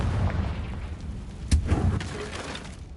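A Confringo fire spell blast in Hogwarts Legacy, played on PS5: one sharp booming burst in the middle, followed by a short rumbling tail over a low background drone.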